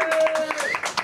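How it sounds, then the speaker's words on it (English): A comedy club crowd claps for a stand-up comedian taking the stage, a brief burst of applause and cheering mixed with voices over about a second. "Big round of applause for Danny"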